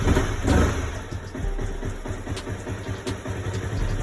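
Honda CBR 250R motorcycle engine running steadily at close range after a fuel injector installation, with a low continuous drone and small throttle surges.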